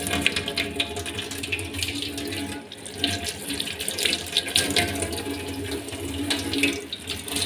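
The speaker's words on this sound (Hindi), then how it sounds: "मैंगो को पहले धो लेती हूँ।" A mango is washed under a running kitchen tap, water streaming and splashing steadily for several seconds with a short break midway, close and fairly clear, with nobody talking.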